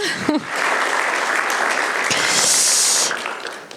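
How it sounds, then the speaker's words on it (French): Conference attendees at a mountaineering school in Chamonix applaud the volunteer guides, steady crowd clapping that swells toward the end before fading, with a brief voice at the start. "on peut les applaudir"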